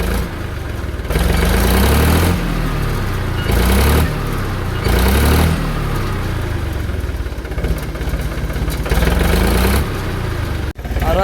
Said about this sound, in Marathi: ट्रॅक्टर काय इंजिन कामाला आले काय?